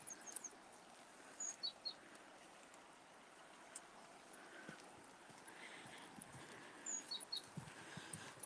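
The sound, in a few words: bird calls by the Tagus River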